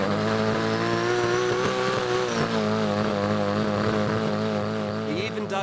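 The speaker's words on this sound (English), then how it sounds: "He even does the burnouts the way we remember them from the old days in Japan." A Japanese tuned car fitted with an HKS torque split controller and a line lock kit roars continuously through a burnout, its engine held at high revs as a loud, sustained drone.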